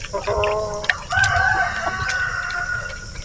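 A pet rooster crows loudly and close by, one drawn-out cock-a-doodle-doo rising and holding, with hens clucking and other fowl noises around it in a farmyard setting.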